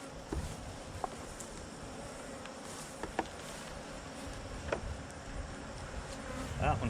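Honey bees buzz around an open beehive during a hive inspection. There is a dense, continuous swarm drone close by, with occasional faint taps and handling noises.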